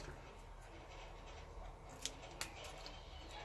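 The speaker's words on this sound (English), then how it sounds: "So I'm going to cut this square first." Scissors snip a square of washi tape close up, with two distinct sharp cuts over quiet background hiss.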